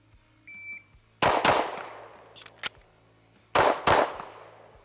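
A CZ P-10C ported pistol fires two loud, sharp shot pairs with a pause between them for a reload. A faint beep comes before the shots, and the clicks and handling of the reload sit in the gap.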